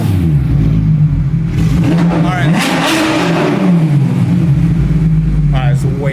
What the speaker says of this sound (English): it's way too loud.